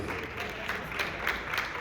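Audience applause for dancers at the Arizona Dance Classic dance competition, a short, moderately loud stretch of crowd clapping with a murmur of the crowd underneath.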